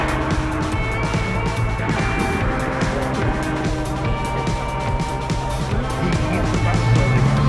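Classic Hillman Imp cars gather at a Cars & Caffeine meet at Combermere in January, engines idling and revving nearby amid a busy outdoor crowd with steady mechanical hum and occasional clicks.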